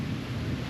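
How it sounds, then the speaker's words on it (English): Rain falls heavily around a Honda Civic, a dense, low rumbling patter close by and continuous through the brief moment. "It's raining."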